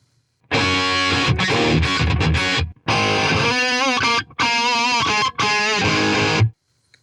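Heavily distorted electric guitar through an EVH 5150 III high-gain amp simulator, played loud and close, several sustained chugging phrases separated by brief silent gaps.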